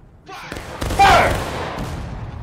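A musket volley fires in the War of Rights Civil War game, a ragged burst of shots that booms and rolls away. A voice is heard just before it.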